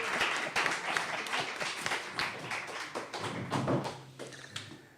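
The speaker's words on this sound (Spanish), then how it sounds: "Un aplauso, por favor" A burst of clapping from a crowd, loud at first and gradually thinning out over several seconds, with scattered individual claps near the end.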